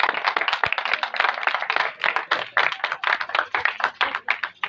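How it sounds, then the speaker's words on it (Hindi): A church congregation at a Palm Sunday service claps together in a close, fairly loud burst of applause, hands striking in a quick, continuous patter with no talk. "आपकी भरपूर तालियों के अंदर।"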